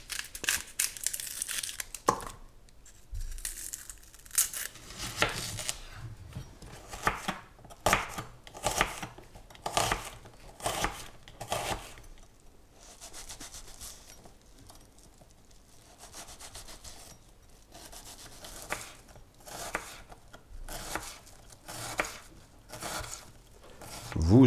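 Repeated knife chopping of a red onion on a board in irregular bursts, crisp and close, with pauses and some rustling between runs of cuts.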